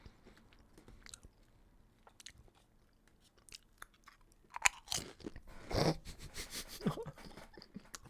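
Close, crisp crunching and chewing of a snack near the microphone, quiet munching at first, then louder bursts of crunchy bites toward the end.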